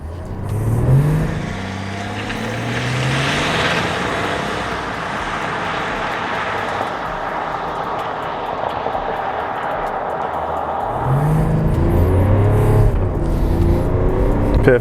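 2021 Cadillac Escalade diesel accelerating hard from inside the cabin: engine revs climb through rising gear sweeps, shift and drop, then climb again near the end, steady road and wind roar between, no talking.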